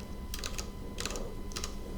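Computer keyboard typing in three quick bursts of clicky keystrokes, close and fairly quiet over a faint steady hum, during a Minecraft Tekkit Classic session.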